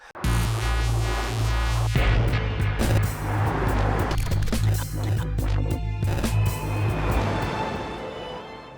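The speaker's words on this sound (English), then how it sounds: "We hold the record for the fastest driving in reverse with a car, 275 kilometers per hour." Rimac electric car racing backwards at high speed, a loud steady whine with low throbbing hum and sharp rushing bursts of wind and road noise sweeping past.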